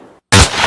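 An M60 toy gun firing: a single abrupt, loud burst that starts after a brief silence and rings on as a sustained noisy blast.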